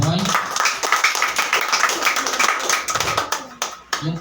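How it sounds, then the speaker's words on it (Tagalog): Church congregation clapping steadily in a dense, continuous round of applause, with a voice speaking over it near the start and end. "Minsan pa, palakpakan po ating Diyos na buhay."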